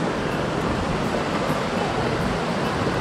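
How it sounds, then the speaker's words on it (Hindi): Water at the Dadupur river barrage on the Yamuna in Yamunanagar rushes under pressure in a loud, constant, broadband roar with no pauses and no voices. "कितना तगड़ा पानी है, यहाँ पे पूरा प्रेशर है"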